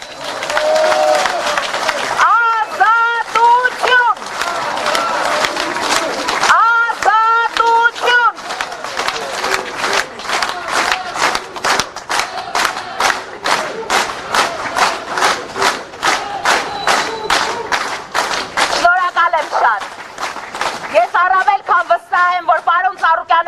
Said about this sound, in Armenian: Լսում է ձեր ծափերը, լսում է այս վանկարկումները